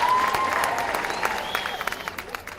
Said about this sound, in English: So round of applause for both families